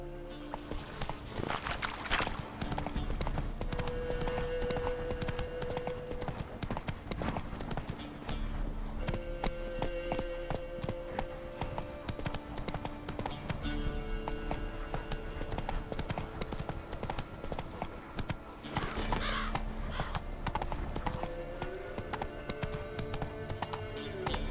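Roach, a horse in the video game The Witcher 3, gallops with steady, loud clip-clop hoofbeats throughout, joined by occasional whinnies and a game music bed.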